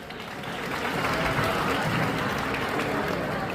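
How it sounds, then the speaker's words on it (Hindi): Applause at a school's National Voters Day event after a demonstration of casting a vote, as a roomful of people claps loudly, building quickly from a quieter start and then holding a dense, steady roar until the end. "जोरदार तालियां।"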